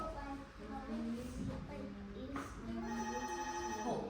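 A telephone rings with repeated tonal warbles through the clip, moderately loud indoors, with faint voices underneath.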